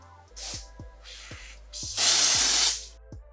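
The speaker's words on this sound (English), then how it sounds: "You want to spray it too." Several short hissing sprays from an aerosol can, three brief bursts followed by one longer spray, close and clear with a faint rhythmic thump beneath.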